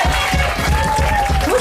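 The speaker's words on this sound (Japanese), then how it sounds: "拍手。" Audience applause at a live indoor concert, steady clapping from a crowd at moderate loudness, with some tonal hum and a voice or two faintly underneath.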